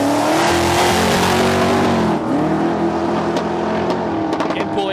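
A supercharged Ford Falcon drag car at a raceway runs rough as its engine breaks down, a loud, wavering drone that drops and stutters partway through, with voices over it.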